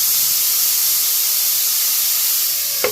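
Chicken frying in a pan on low heat, a steady, even sizzling hiss throughout with a short clack right at the end.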